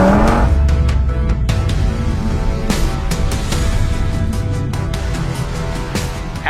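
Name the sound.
Lexus LFA and Audi RS3 launching in drag race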